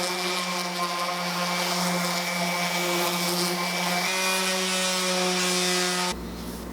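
Router spinning steadily as it cuts a 1/8 inch roundover along maple coffee table edges, a loud continuous whine with strong harmonic tones that drops abruptly near the end as the cut finishes.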